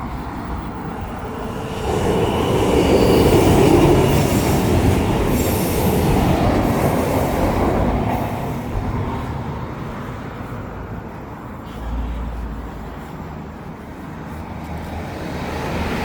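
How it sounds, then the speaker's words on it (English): A train rolls past on its rails, a loud, close rumble of wheels with metallic squeal and clatter that swells, then fades over about sixteen seconds, with no voices. "it's like the train that you just saw"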